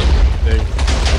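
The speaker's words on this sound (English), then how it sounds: "Oh, this is so many explosions!" Booming explosions from the Minecraft Doctor Who Daleks mod video game, a dense burst of several heavy blasts close together, with a person talking excitedly over them.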